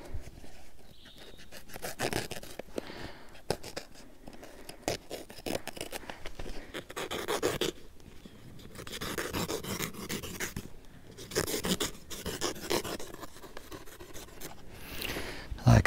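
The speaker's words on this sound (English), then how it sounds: "Just gonna cut all this weed mat that's too long." Weed mat being cut with a pocket knife to make a seedling tray, a series of close, faint scratchy slicing and rustling strokes with irregular pauses.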